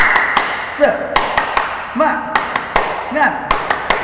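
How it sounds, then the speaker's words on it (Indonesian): A grade 3 class doing the tepuk semangat rhythmic clap in a Quran and Hadith lesson: sharp, separate claps land in a patterned beat, mixed with voices chanting along, close and fairly loud. "Kita tepuk semangat dulu. Tepuk semangat."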